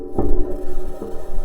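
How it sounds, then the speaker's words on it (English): A Mars rover's metal wheels driving on the Martian surface: low rumbling grind with a couple of heavier metallic knocks, a continuous mechanical drone of rigid wheels rolling over rough ground. "This is the sound of the rover driving on Mars."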